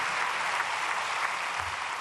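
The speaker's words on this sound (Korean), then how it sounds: "우리 목사님 나오실 때 박수로 환영해 주시겠습니다." A church congregation applauds to welcome a pastor at a prayer meeting for peaceful reunification, a continuous even wash of clapping that sounds somewhat distant and moderately loud.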